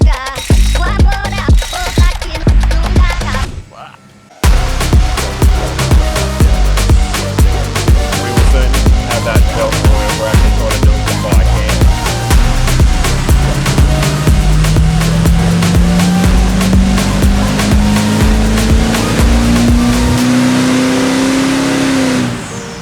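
A 300 Series vehicle running on a hub dyno before tuning, its engine loud and close, pulsing at first, then cutting out briefly before revving steadily upward with a rising whine through a long pull.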